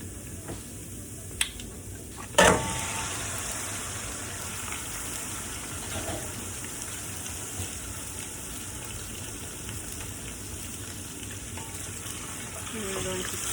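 Pork frying in a pan for a Hmong pork and ginger stir fry, a steady close sizzle with a sharp clatter as the meat is stirred around, no talking.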